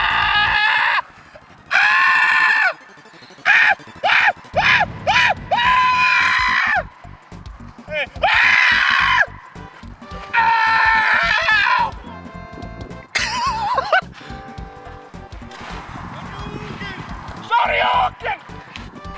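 A person in a Lucario mascot costume screams repeatedly in loud, harsh bursts with pauses between, then keeps up sustained shrill yelling toward the end.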